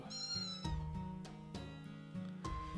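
Several cats meow in turn, a series of clear, drawn-out calls and short mews, some rising into a wail, close and distinct with no talking over them.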